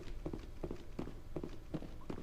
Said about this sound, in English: Whoever it is with the massive footsteps back there, you might want to keep it down a bit.